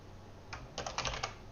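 Quick bursts of typing on a computer keyboard, several rapid clusters of light key clicks close by and fairly quiet, with no voices.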